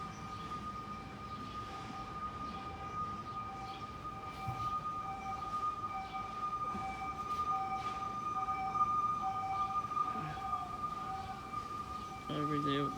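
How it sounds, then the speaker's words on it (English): Emergency vehicle sirens wail steadily in the background for the whole stretch, sustained tones over street and traffic noise, swelling slightly louder toward the end. "Do you hear the sirens?"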